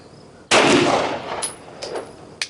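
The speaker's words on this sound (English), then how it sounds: "And the Winchester white box 147 grain Subsonic out of the Glock." Glock pistol firing Winchester white box 147 grain subsonic 9mm ammunition; one sharp, loud report with a short rumbling decay, followed by a couple of fainter clicks and knocks.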